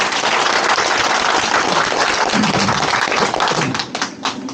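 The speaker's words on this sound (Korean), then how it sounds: "자, 박수로 맞이해주십시오." A large crowd of party members at a rally in Suncheon, South Korea, breaks into sustained applause to welcome a speaker. The clapping is loud and dense throughout, then thins out near the end.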